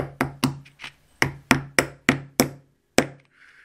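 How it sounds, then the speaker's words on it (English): A small, light dead blow hammer taps on a Traxxas TRX-4 RC car beadlock wheel, about nine sharp, dull knocks in a loose rhythm with brief pauses, close and clear. "Get one of these small, light, mushy dead blow hammer."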